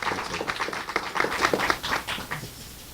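Audience applause for two doctors at the close of a workshop course, a dense patter of many hands clapping at moderate level, tapering off near the end.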